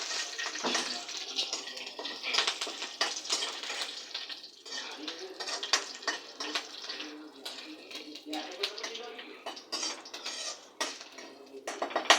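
Leafy greens (penuganta leaves) being washed by hand in water, with irregular splashes, sloshing and clinks against a vessel, close and fairly quiet.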